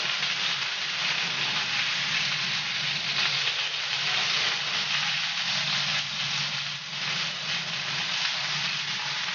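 Veal ribs fry in a pan with a steady, close sizzling hiss that continues evenly throughout, no voices.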